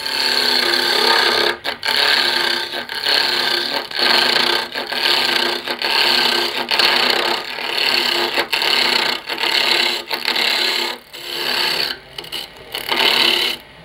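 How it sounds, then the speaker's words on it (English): A skew chisel takes a peeling cut on spinning wood at a lathe, a loud steady rasping hiss broken by brief regular gaps as the tool lifts and re-engages, close and without talk. "The trick to a skew chisel is, well, that was a peeling cut."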